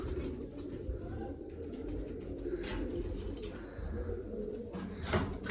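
Pigeons coo softly in a flock kept for a pigeon-flying session, a steady low murmur of overlapping calls with a few brief rustles and a louder flutter near the end, no talk.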